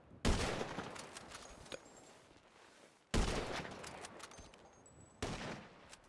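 Gunfire in a GTA roleplay game: two sharp volleys of shots, each burst starting loud and trailing into a rattling decay, then a third shorter burst near the end, with no talking.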